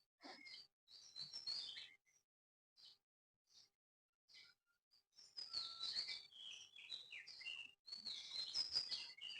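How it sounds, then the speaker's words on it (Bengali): Birds chirp and tweet at dawn in a Bengal village, scattered single calls at first, then bursts of overlapping high twittering, nearby and fairly clear against a quiet background. "এখনো পাখি ডাকছে, কিচিরমিচির করছে"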